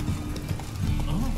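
Hoofbeats of the horse Roach in the video game Witcher 3, a close, steady clip-clop trotting rhythm under a constant low game background, with a voice talking faintly.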